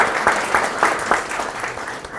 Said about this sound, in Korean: 여러분 큰 박수로 환영을 부탁드리겠습니다